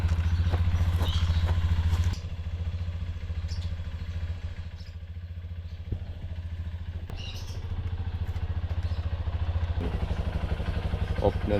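A Honda CRF150 motorcycle engine idles steadily during warm-up, a close, even low-pitched thumping throb that continues throughout with faint clatter, while a person talks quietly over it.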